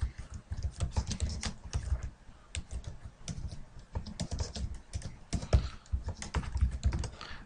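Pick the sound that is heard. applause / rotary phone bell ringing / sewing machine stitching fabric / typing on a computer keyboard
typing on a computer keyboard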